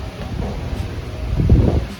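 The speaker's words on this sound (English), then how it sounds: "Really windy here today in Pensacola Beach." Steady low rumbling wind buffeting the microphone at Pensacola Beach, with gusts swelling louder toward the end; no voices.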